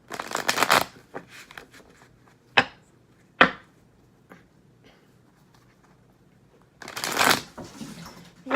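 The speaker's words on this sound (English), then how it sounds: "Hear that rustling? That is my cat Mamo playing with the box" A pet cat named Mamo plays with a cardboard box indoors, making sharp rustling, scraping bursts at irregular intervals with quiet gaps between, then a longer flurry of scratchy rustling near the end.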